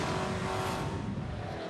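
A V8 touring race car at Pukekohe raceway brakes into turn 5, its engine a loud, continuous roar with a broad rushing hiss over it, steady across a brief stretch.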